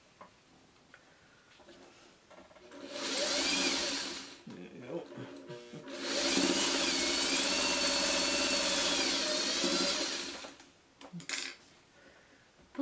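A sewing machine stitches sashing onto a traditional H quilt block, its motor whirring close and loud in two runs, a short burst and then a longer steady stretch of several seconds, with quiet pauses around them.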